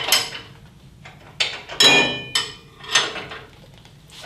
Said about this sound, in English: There's 4 bolts on the trunnion plate, and I just have to loosen those bolts.